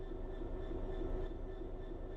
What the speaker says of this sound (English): Let's get the train moving and see it all working.